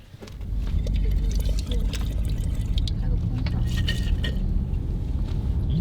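Bubbles blown through a straw into a drink, a steady gurgling and bubbling that runs nearly continuously at close range, with low rumbling underneath.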